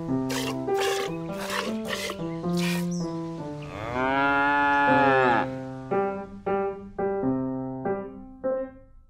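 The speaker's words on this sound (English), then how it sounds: "Big Blue milked a cow when he visited the farm" A cow moos loudly and close, giving several short rhythmic lows followed by one long drawn-out moo and a few more brief calls, with no talk.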